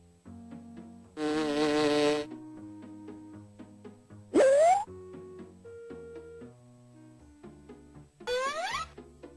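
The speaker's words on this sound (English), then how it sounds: "Look how the bumblebees buzz from flower to flower" Cartoon bumblebees buzz from flower to flower in a garden, heard as a few short, loud buzzing bursts over light, tuneful background music.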